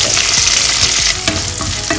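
Long-cut okra sautés in hot oil, crackling in a loud, close sizzle, with scraping stir strokes from a spoon or spatula and no talk.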